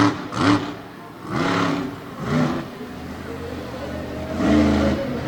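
A monster truck on the All-Star Monster Truck Tour blasts through freestyle at Jennerstown Speedway, its engine roaring in four loud revving bursts separated by a lower idle growl, heavy and close.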